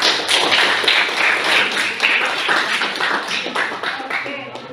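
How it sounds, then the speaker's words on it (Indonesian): A classroom of students applauds a classmate, a loud burst of many hands clapping together that holds steady and then gradually thins out. "Oke, kasih aplaus dulu buat Teta"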